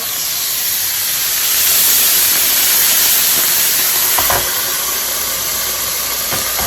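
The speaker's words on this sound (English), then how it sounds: "Just to give it a little steam in there." Butter steaming and sizzling in a hot pan under a chicken sandwich makes a steady, close broadband hiss that holds without pause throughout, with no talking.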